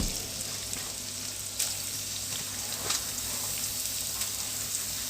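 Carrots frying in hot oil for spring rolls, a continuous close crackling sizzle with scattered sharper pops, steady and fairly loud.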